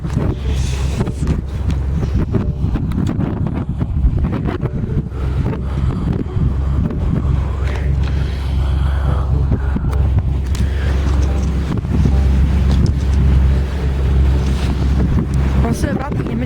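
A boat is driven across the water with a constant low engine rumble, heavy wind buffeting and water rushing past the hull. A voice can be heard faintly under the noise.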